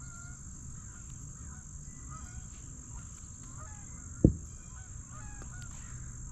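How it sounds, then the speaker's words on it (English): Geese honk as they fly in over an outdoor spot near a pond, their calls faint and scattered against a steady background hum, with a brief louder thump partway through. "some geese flying in"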